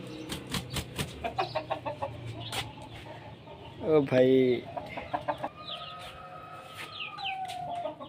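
A rooster clucks in a rapid string of short calls, then lets out a louder squawk; someone speaks briefly and chirps sound in the background.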